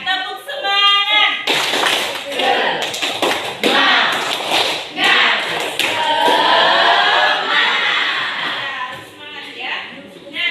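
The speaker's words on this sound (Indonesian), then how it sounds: "Ya, tepuk semangat." A classroom of students performs a spirit clapping routine, with rhythmic bursts of hand claps and taps sounding close and loud, mixed with voices chanting and talking throughout.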